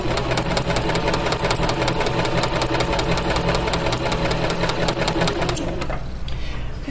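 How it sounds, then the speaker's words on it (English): A sewing machine stitches through paper with a fast, even mechanical chatter at close range, running steadily before stopping near the end. "I'm going to line this up beside the first stitch. And I'm going to start sewing."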